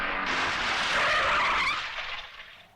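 A car skids to a stop in a Hindi film scene: a loud, harsh tire screech builds, holds for about a second and a half, then trails away into quiet.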